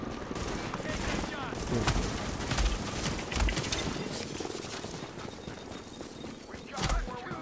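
Rapid gunfire bursts rattle through an online shooter game, sharp repeated shots over a busy background while a player talks over the action.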